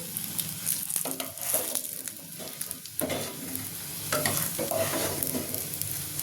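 Fried koftas are lifted out of hot oil, which sizzles and crackles steadily and closely, with soft scraping and stirring clatter of a slotted spoon in the pan. No voices.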